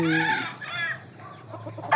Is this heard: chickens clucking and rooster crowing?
yes